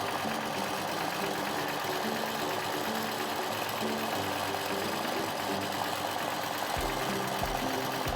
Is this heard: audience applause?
no